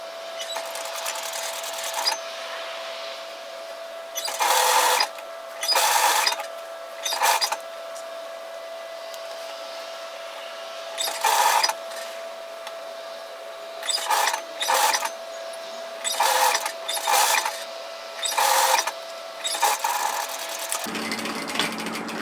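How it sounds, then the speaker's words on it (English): A sewing machine stitches a sweater seam at a 6mm allowance in short repeated bursts with pauses between, close and moderately loud over a steady faint hum. "So we're going to sew this at 6mm,"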